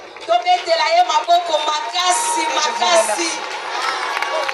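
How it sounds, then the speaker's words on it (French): An audience at a political gathering in Kinshasa for a new provincial deputy cheers and shouts, with high excited voices and whoops rising and falling in a lively, sustained din. "Je vous demande de l'applaudir s'il vous plaît."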